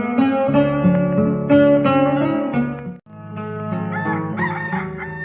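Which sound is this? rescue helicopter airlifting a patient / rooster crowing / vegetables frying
rooster crowing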